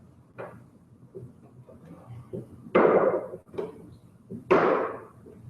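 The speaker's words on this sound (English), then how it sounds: "This is where a hammer comes in." A hammer taps a wooden window parting bead into place, several light taps and then two louder, sharp knocks about two seconds apart, close up in a quiet room.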